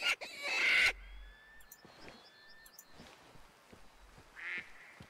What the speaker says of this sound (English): just wild duck, not what we're after